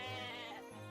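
A goat bleats in the video game Atelier Ryza: one sustained, wavering, nasal cry heard up close, fairly faint and with no talking over it.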